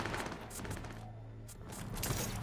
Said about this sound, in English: They're shooting each other again.